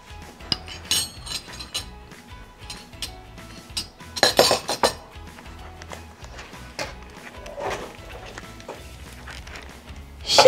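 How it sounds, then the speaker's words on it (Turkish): Three eggs and three tablespoons of sugar whisked in a mixing bowl, light clinking taps of the whisk against the bowl, irregular and close, with a few louder clattering bursts. "Şimdi tatlımızın kekini çırpmaya başlıyoruz."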